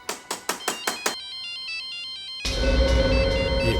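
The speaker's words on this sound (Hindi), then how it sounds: "ये सेलफोन किसका बजा?" A cellphone ringtone in an empty bungalow in the Indian crime drama CID: a run of five sharp, evenly spaced beeps leads into a looping electronic melody, then a loud wash of broadband noise takes over. No one speaks.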